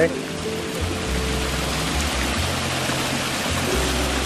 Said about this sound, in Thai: มันมีทางน้ำไหล เป็นน้ำตกเล็กๆสองข้างทาง